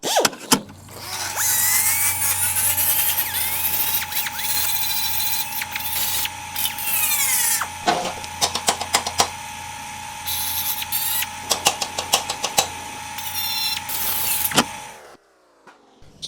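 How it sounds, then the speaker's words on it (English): A burr bit on a power tool grinds away at spot welds on a Ford Cortina body panel, making a loud, close, sustained high whine with stuttering chatter and brief load changes, running about fifteen seconds before cutting off. "chipping away at this with the burr bit"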